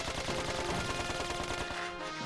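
A weapon in the Dark Cloud 2 video game fires a steady stream of many bullets, fast rhythmic rattling shots continuing without a break under game music and effects.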